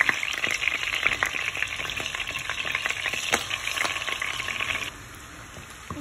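Garlic and ginger frying in a pan for a spinach chicken curry, a steady close sizzle with scattered spatula scrapes and stirring clicks, dropping quieter near the end.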